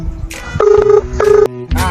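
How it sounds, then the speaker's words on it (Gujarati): A phone dials out, with short electronic tones and beeps sounding loud and close, followed by the start of a ringing signal. "રાહુલનો ફોન કરવો છે આપણે કર ફોન"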